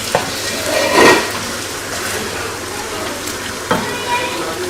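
Food frying in oil in a pan at home, a continuous close sizzle with bursts of stirring and a sharp clink or two, fairly loud, with a voice talking over it.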